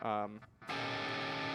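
An electric guitar rings out a dominant seventh flat five chord after a brief burst of speech, the chord sustaining evenly and at moderate loudness to the end.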